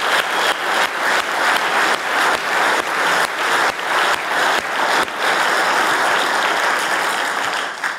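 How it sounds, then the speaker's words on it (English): A large conference audience applauds the kitchen and event staff at a policy conference keynote, a loud, steady wash of clapping that holds for about eight seconds with no talk over it. "let's give all the staff a great round of applause."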